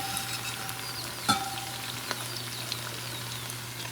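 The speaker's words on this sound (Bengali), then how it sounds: "তো সব বকফুলগুলো এইভাবেই আমি ভাজা করে নেব।" Bakful flowers fry in an iron kadai with a steady, close crackling sizzle, broken by one sharp metallic clink and a couple of lighter taps.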